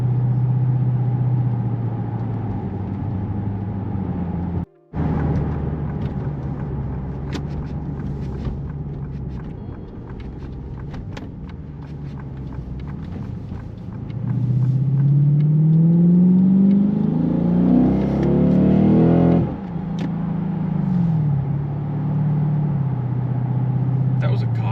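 A modified Lexus GS-F engine revs loudly from inside the car, climbing sharply to the rev limiter and dropping back, with a person talking over the steady engine drone.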